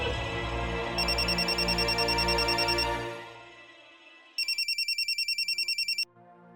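An electronic phone ringtone trills in two bursts, the first over loud music, the second alone after a pause, bright and rapidly pulsing.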